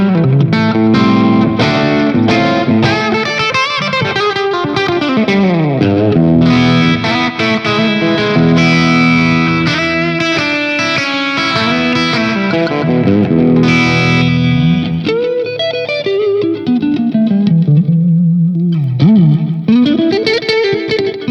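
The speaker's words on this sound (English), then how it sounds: "Let's see if we can squash that a little more with the compressor." Distorted electric guitar through a Donner Arena 2000 multi-effects pedal's compressor, played continuously with heavy compression and sustain, notes ringing and sliding with chorus-like shimmer, loud and steady throughout.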